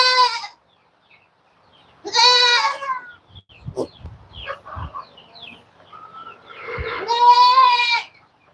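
Several goats bleat on a farm in separate loud, wavering calls, one near the start, another a couple of seconds later and a longer one near the end, with scattered knocks and faint sounds between them.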